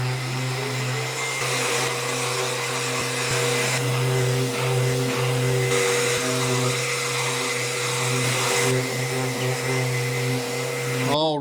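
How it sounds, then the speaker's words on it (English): A power sander runs steadily on small wooden pieces of a DIY Christmas church model, a loud continuous whine with slight shifts in pitch and load, close to the listener. "Now we will get this sanded and glued, and then we're going to paint this first one white."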